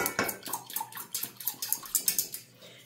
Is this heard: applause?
no